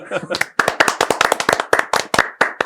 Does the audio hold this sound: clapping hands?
yes